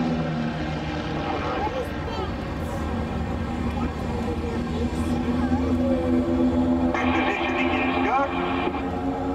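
At an airshow, a propeller aircraft drones steadily overhead through an aerobatic loop, its engine tone shifting slightly, while a commentator talks continuously over the public address.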